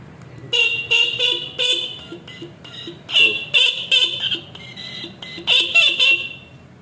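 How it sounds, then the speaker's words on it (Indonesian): A worn-out horn on a Yamaha F1ZR motorcycle under restoration is sounded in a string of short and longer honks, rough and raspy, loud and close, separated by brief pauses. "klakson ini suaranya sember"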